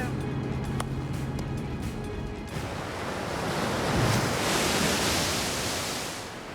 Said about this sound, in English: I'm gonna check out the waves.